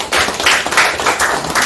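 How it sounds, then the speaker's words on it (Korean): Applause from a seminar audience welcoming a guest speaker to the podium at a research institute's fourth-anniversary opening ceremony, a short, dense burst of clapping with tapping, steady and close. "박수로 환영해 주시기 바랍니다"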